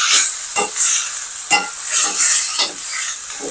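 Lemongrass, chili, garlic and onion sizzling in a pan while being stirred for coconut-milk adobo, close frying hiss broken by repeated scraping strokes of the spoon in an uneven rhythm.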